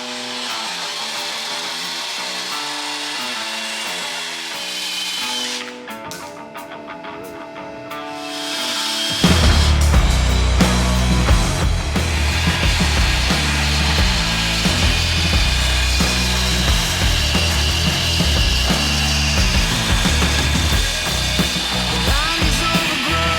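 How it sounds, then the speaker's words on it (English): Old factory tie rod ends being cut off the front axle of a Craftsman LT4000 lawn tractor. A quieter tonal stretch gives way to a loud, sustained cutting roar that continues to the end. "chop off these old factory tie rod ends for this drag link"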